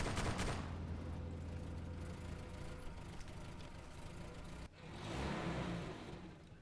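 Heavy machine gun fire in Arma 2, a dense, loud burst of rapid shots at the start, then sustained rumbling gunfire and engine noise, dipping briefly before a second swell of heavy firing.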